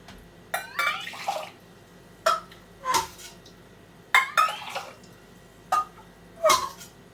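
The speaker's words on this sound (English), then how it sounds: "I'm going to take some of this cooking liquid" Corned beef cooking liquid ladled out of an Instant Pot, heard as a few separate close pours and splashes with soft clinks spaced across the stretch, then quiet gaps between them.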